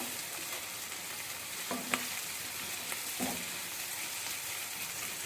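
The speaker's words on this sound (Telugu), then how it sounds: "పచ్చిమిర్చి కూడా మధ్యలోకి కట్ చేసుకున్నాం కదా ఇవి కూడా వేసి పచ్చివాసన పోయే వరకు ఇలాగే మంచిగా ఫ్రై చేస్తూ ఉందాం" Green chilies fry in a pan for paneer bhurji, giving a constant close hiss of hot oil, with a couple of brief spatula scrapes and taps against the pan.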